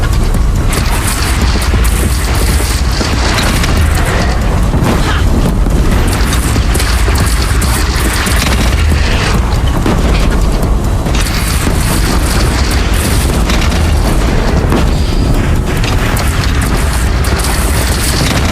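Cannon fire and heavy booms from battle in the video game Horizon Zero Dawn, a loud continuous wall of explosive rumble with repeated blasts throughout.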